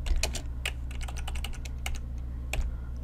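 Quick bursts of clicking keystrokes on a computer keyboard as code is typed, close and crisp with short pauses between clusters, over a low steady hum.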